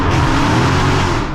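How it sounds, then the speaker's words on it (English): An 800bhp Dodge Hellcat revs hard on a late-night London drive, a loud, deep, steady engine roar filling the short stretch without a break. "if you've heard the sound of this Hellcat, I'll remind you of how horrible it sounds"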